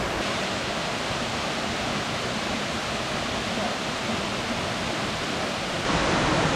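Steady, loud roar of a rainforest waterfall fills the whole stretch as a continuous broadband rush, swelling slightly brighter near the end, with no voices over it.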